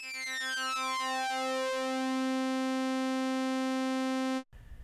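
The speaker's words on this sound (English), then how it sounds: "you can actually hear the pitch on the slave slowly glide down to the same pitch as the master" Waldorf Rocket synthesizer with its slave oscillator gliding down to the master sawtooth's pitch, a loud, bright buzzing tone whose beating settles into a steady drone before cutting off abruptly near the end.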